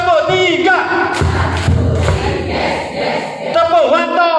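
A group of people claps together on a spoken command, a loud burst of clapping and crowd noise with voices around it.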